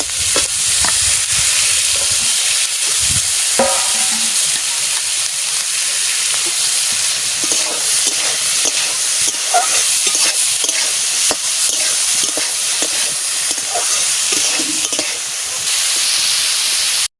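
Beetroot and cabbage frying in a pan, a loud, constant close sizzle and hiss with scattered stirring knocks throughout.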